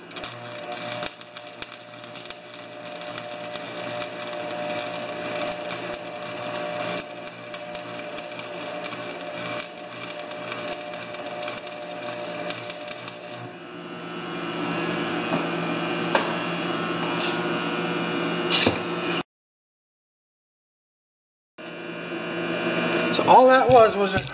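Stick welding a bead on a John Deere TRS 24 snowblower auger, a continuous crackling, sizzling buzz that shifts in tone, stops briefly, then resumes.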